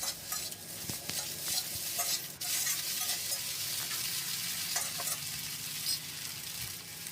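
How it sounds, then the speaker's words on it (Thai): Glass noodles with egg and carrot being stir-fried in a pan, with loud, continuous sizzling under brisk scraping and tossing strokes and a few sharp knocks of the spatula. "แครอทก็จะเพิ่มสีสันให้ผัดของเราเนี่ยมีสีที่สวยงามครับ นี่เลย ผัดคลุกเคล้าเข้ากันก่อนนะครับ"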